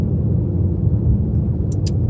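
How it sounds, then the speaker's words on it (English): A 2019 Kia Stinger GT accelerates gently through a turn, giving a steady, low engine rumble heard from inside the car, with no talking. "You can hear I was accelerating a little bit through it."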